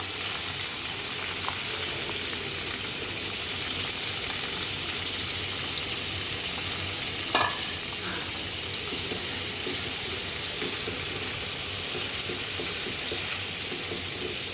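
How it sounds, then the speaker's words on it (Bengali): Onions fry in a pan over high heat for a restaurant-style chicken dish, a steady close sizzle running unbroken for the whole stretch, with one brief clink partway through and no talking. "পেঁয়াজটা একটু ভেজে নিতে আসি, একটু নরম হোক"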